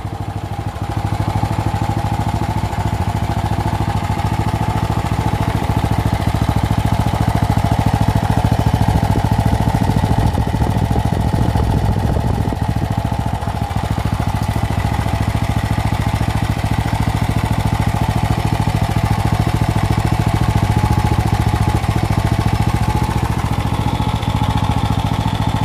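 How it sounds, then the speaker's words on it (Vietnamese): A small used Japanese sound-insulated engine for a sprayer or high-pressure washer runs at a steady, smooth idle, droning evenly and fairly loud throughout with no change in pitch. "Máy nổ rất là êm luôn."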